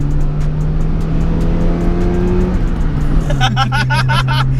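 A 1-litre Nissan Micra engine pulls hard under full acceleration, a loud steady drone that holds then drops slightly in pitch, heard up close from inside the car with clicking near the end.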